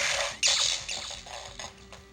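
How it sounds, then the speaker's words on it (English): Power Rangers Lightning Collection Master Morpher toy, red button pressed with no coin inserted, giving a crackling, sputtering electronic shorting-out effect with bright bursts and brief dropouts over about two seconds, close and fairly loud. "I like how when there's no coin there, there is something that happens and it's like shorting out."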